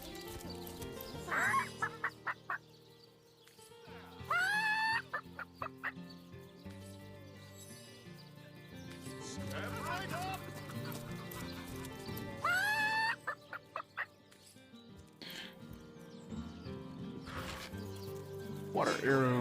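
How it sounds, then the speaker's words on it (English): Chicken in Divinity: Original Sin on PS4 making repeated clucking and squawking calls in several short bursts, set against game music and ambience, with a voice talking over parts of it. "What's the chicken gonna sound like?"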